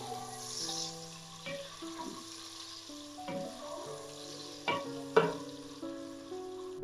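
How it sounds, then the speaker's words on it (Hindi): Onions frying in a pan for palak chana dal after garlic has turned golden, a soft sizzle under a steady background hum, with a few louder stirring knocks near the end. "प्याज को भी सॉफ्ट होने तक फ्राई करेंगे।"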